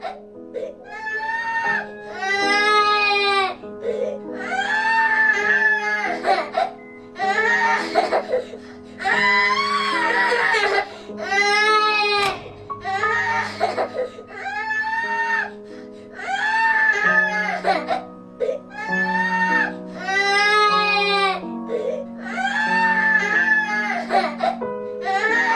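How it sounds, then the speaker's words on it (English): An infant character in the video game That Dragon, Cancer cries and wails in repeated loud bursts, rising and falling in pitch with brief whimpering gaps, sustained over a steady game soundtrack. "Oh, he won't stop crying."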